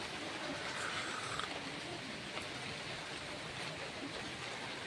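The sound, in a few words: heavy rain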